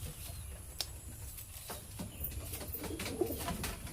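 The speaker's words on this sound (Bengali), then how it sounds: "এমন কোনো পায়রা নেই যে আমাদের কাছে নেই" Pigeons kept for sale, including Punjabi and Allahabadi breeds, coo softly in low, throaty murmurs, faint and continuous, with a few scattered clicks in the quiet background.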